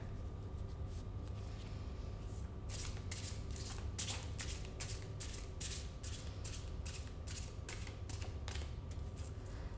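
Playing cards riffle through a rapid run of crisp, repeated shuffles, close and clear against a quiet room, with no talking.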